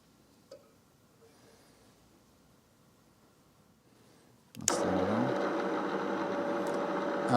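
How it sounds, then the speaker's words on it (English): After several seconds of near silence with a faint click, a very old hobby lathe starts abruptly and runs loud and steady with a rattling motor hum and no talking. "this is a very old lathe and a hobby lathe"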